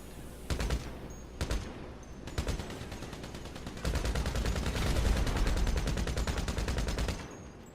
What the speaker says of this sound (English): You can just shoot them with your gun.